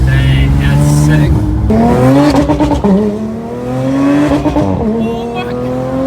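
A Porsche GT3 in sport mode accelerates hard, its engine note climbing through rising harmonics with a shift break around the middle, loud and close from inside the car, with no talk over it.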